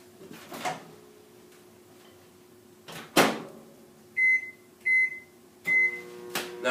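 A microwave oven heating a sandwich for a short cycle: a low steady hum, a sharp door or button clunk near the middle, then three loud electronic beeps evenly spaced at the end.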